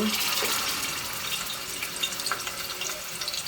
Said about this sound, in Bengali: তো মনে হচ্ছে তেলটা গরম হয়ে গেছে। এখানে প্রথমে আমি লেগ পিসগুলো দিয়ে দিব।